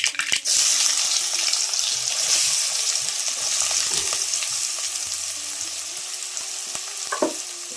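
Chili, garlic and onion dropped into hot oil with mustard seeds and asafoetida on a wood-fired stove, hissing into a loud steady sizzle with stirring scrapes and a few clinks, close up.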